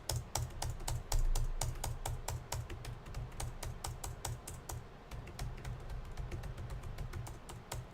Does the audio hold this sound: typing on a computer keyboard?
yes